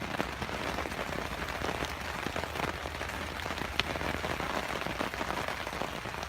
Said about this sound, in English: Which, as you can hear, is still pouring down.